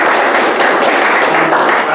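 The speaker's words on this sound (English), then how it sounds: "Would you please give a round of applause?" Loud, dense audience applause for the dean at a speech competition finals, a continuous roar of many hands clapping close by, with voices mixed into the crowd.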